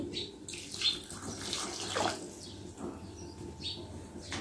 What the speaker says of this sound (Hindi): ये एक गिलास में पानी का डाल रही है इसमें।